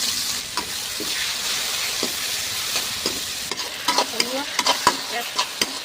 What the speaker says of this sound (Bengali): ফোড়ন দিচ্ছি, লঙ্কা, এলাচ, দারচিনি, জিরে।